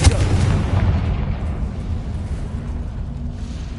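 A Confringo fire blast spell goes off in Hogwarts Legacy: a loud burst at the start decays into a rumbling boom that fades slowly, with no talk over it.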